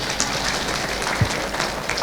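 An audience at a pesantren thanksgiving ceremony claps steadily, the dense applause filling the room at fairly close range with a few sharper individual claps standing out.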